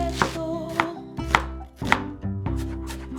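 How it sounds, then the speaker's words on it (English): Knife slicing two small potatoes and a large onion on a board for a Spanish omelette, heard as close, regular sharp chops, about one every half second. "Take 2 small size potato and 1 big onion and slice it."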